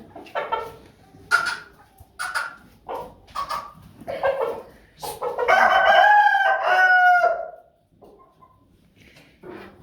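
Several chickens cluck and squawk in bursts, then a rooster crows loudly and long nearby; a dog may bark briefly in the mix.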